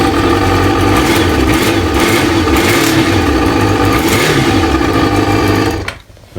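Kawasaki ZL600 Eliminator motorcycle engine running loud and close, a steady rough mechanical rumble with a buzzing high-revving tone that holds for several seconds, then cuts off abruptly near the end.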